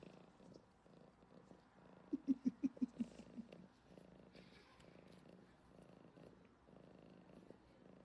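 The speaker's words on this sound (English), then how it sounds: "She has a loud purr." A cat purrs softly and steadily, with a louder burst of rhythmic purring pulses in the middle, close to the microphone.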